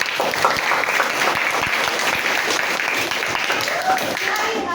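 Classroom group applauding a student presentation group, a steady patter of clapping from a modest number of people nearby, with brief murmured voices underneath.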